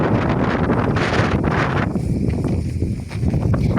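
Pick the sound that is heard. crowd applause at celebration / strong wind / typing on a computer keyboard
strong wind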